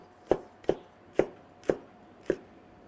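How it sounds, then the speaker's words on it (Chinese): A knife chops green chilies on a worn cutting board in a home kitchen, five sharp, evenly spaced thuds about half a second apart, close and clear with no talk. "准备切点青海椒哈，烧到里头"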